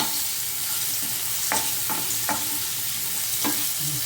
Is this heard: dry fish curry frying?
yes